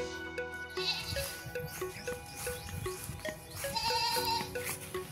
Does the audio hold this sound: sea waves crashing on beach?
no